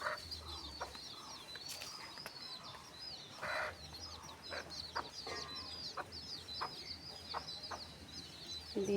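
Village desi chickens clucking in a farmyard, repeated soft clucks and calls with a rooster-like cry among them, steady birdsong and rural ambience behind, moderately close.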